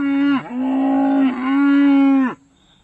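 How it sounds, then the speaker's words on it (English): A cow in a pasture lets out a loud, nearby, drawn-out moo lasting about two seconds, with a brief break in the middle before the call trails off into quiet. "Come on, cows."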